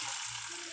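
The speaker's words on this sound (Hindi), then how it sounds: "हम तड़का लगा देंगे दाल में" Tadka tempering sizzles steadily as it is poured into dal, the flame already off, a loud continuous hiss of hot oil and spices with no speech.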